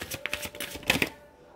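A deck of tarot cards is shuffled up close in a few quick papery riffle bursts, then the sound drops to near silence.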